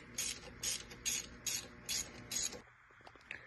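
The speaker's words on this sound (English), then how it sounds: "I got all the bolts around loosened" A ratchet wrench loosens 8mm bolts on a Fiat engine during a PCV valve O-ring repair, six quick, evenly spaced clicking strokes, fairly quiet and close, followed by a brief lull.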